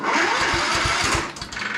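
An estate car's engine cranks on a weak jumper battery, a loud rapid series of starter chugs for about a second before settling into a rough running rumble.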